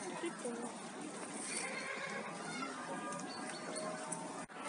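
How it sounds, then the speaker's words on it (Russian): At the Leningrad Zoo, a goat overhead gives a loud, wavering bleat that sounds like a horse's whinny, heard at moderate distance over outdoor crowd murmur and nearby voices. "А здесь над нами ржёт коза."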